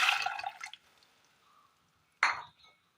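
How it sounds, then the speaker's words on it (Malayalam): Very hot water poured into a cooking pot set on the stove, a splashing pour at the start that fades to quiet, then a second brief splash. "ഒരു ചട്ടി അടുപ്പത്ത് വെച്ചതിന് ശേഷം നല്ല ചൂടുള്ള വെള്ളം ചട്ടിയിലേക്ക് ഒഴിച്ചു കൊടുക്കാം."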